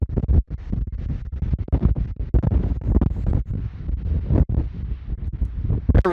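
Strong wind on Windy Peak in Nevada's Rainbow Mountain Wilderness, gusting hard straight into the microphone as a loud, low, rumbling roar with brief dropouts between buffets.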